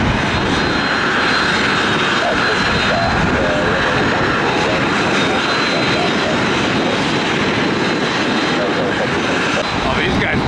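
A business jet's engines roar loudly and steadily at Tampa airport, a broad continuous rumble and whine filling the whole stretch without letting up.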